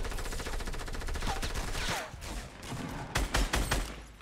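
Rapid bursts of SCAR assault rifle fire in the Fortnite battle royale, a dense stream of shots running through most of the clip, then several louder separated cracks near the end.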